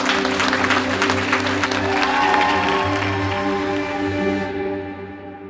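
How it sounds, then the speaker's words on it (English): Audience applause for a speaker at a business event, sustained clapping under a steady musical bed that fades out at the end. "Round of applause for Steve Mellor."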